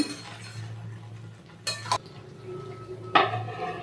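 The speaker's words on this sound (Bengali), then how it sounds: "এবার ঢাকা দিয়ে দেব আমি" A lid goes onto a cooking pot of chicken rezala, two sharp metallic clanks against a low kitchen hum, with light scraping before them.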